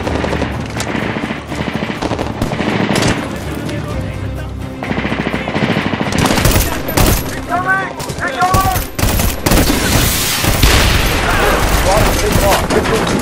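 Rapid automatic gunfire and scattered shots rattle through a Medal of Honor: Warfighter firefight on PC, with bursts repeating across the whole stretch, loud and close, while a voice talks briefly over the combat.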